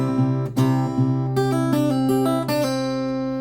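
A plucked guitar melody in sixteenth notes, quicker note runs mixed into longer held tones, bright and close, played solo with no voices.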